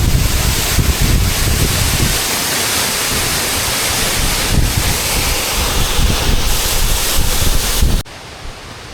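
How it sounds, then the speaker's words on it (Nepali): Strong wind gusting across an alpine mountain path, a loud, steady roar buffeting the microphone with surging gusts before cutting down sharply near the end. "हावाले उडाइदिन्छ है।"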